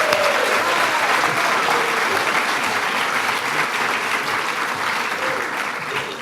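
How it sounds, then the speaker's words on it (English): Sustained audience applause at a July 4th celebration at the National Archives, a dense, even wash of many hands clapping that holds steady and eases slightly toward the end, with no voices over it. "So another round of applause to all of you."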